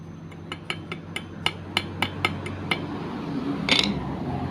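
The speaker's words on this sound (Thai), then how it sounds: "ใช้ค้อนตอกเบาๆนะครับ" A hammer taps lightly about nine times in a steady rhythm, sharp metallic clicks ringing out, followed by a brief scraping clatter.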